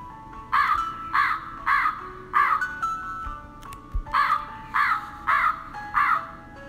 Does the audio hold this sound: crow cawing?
yes